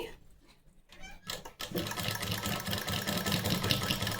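Blouse fabric runs through a sewing machine, which starts after a brief quiet moment and then keeps up a steady, close mechanical whirring stitch.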